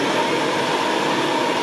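A shop vacuum cleaner running alongside a WEN 3962 bandsaw gives a steady, loud broadband whoosh with a faint constant hum, close and unbroken, with no talking.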